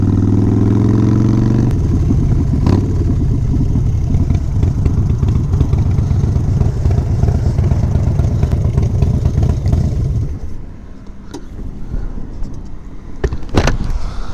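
A motorcycle engine rumbles steadily at close range as the bike rides in and pulls up at a pub, then the sound drops away near the end as it stops, with no talking.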